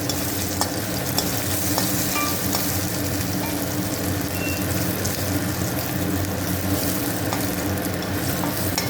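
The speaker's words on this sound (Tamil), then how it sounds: "தாளிப்பு வடகம் பொரியுது பாருங்க." Onion vadagam fries in hot oil as a tempering for a lentil-ball kuzhambu, a loud, continuous close sizzle with light crackles.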